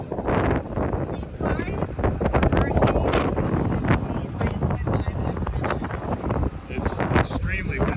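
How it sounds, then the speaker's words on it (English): Strong wind buffets the microphone in a steady roaring rush at Marble Canyon, Arizona, with a person talking underneath the gusts. "It's extremely windy out here."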